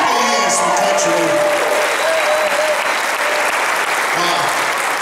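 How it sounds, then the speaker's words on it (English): Sustained, steady applause from an audience at a talk featuring a saxophone player, filling the whole stretch with dense, even clapping and some crowd noise, with faint voices mixed in. "Clap your hands for country music."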